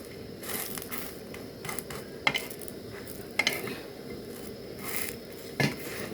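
A rolled patisapta crepe fries in ghee in a pan, a soft steady sizzle broken by a few sharp clinks and scrapes of a utensil, with no talk.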